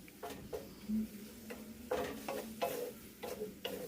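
Shanghai-style noodles with seasoning stir-fried in a pan, with irregular scraping and clinking strokes of a utensil over a soft sizzle, close and moderately loud, without talk.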